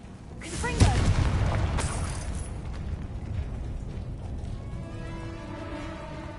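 A Confringo blasting curse explodes in Hogwarts Legacy as a sudden loud boom that rolls into a long rumbling decay, followed by fainter magical shimmering tones.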